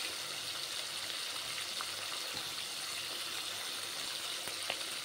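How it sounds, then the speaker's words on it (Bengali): Chopped onion fries in fish oil for a fish-oil chorchori, a faint continuous sizzle with a few small ticks and pops, no voices. "এবারে দিয়ে দেওয়া হলো কুচনো পেঁয়াজ"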